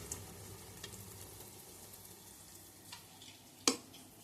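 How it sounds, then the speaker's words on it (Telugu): Purnalu dumplings frying in oil make a soft, steady sizzle and bubble, faint and close, with one sharp clink partway through. "మళ్ళీ మరొకటి తీసుకొని మళ్ళీ ఆయిల్లో వేస్తున్నాను."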